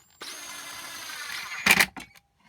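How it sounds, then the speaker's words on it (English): A power drill whirs steadily as it drives countersunk wood screws into a large wooden toy train, ending with a brief louder burst as the screw seats, then stopping. "they can just be screwed in using a drill like that."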